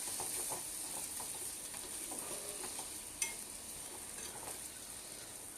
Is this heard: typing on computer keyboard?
no